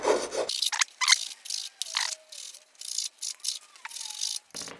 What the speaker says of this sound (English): I just got the round file. I'm just going to run it around here just to make sure that the burrs have gone